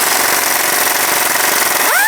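A power tool fitted with a 19mm socket spins off the strut nut on a 2000-2006 Toyota Tundra, giving a loud, continuous buzzing rattle up close that holds steady and then winds down in pitch at the end.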